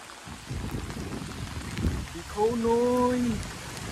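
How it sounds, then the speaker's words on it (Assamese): Heavy rain pours down steadily in a dense hiss at Kokilamukh Shanti Ashram in Jorhat, with a voice briefly calling out near the end. "কেনেকুৱা মাৰিছে বৰষুণ চাওক"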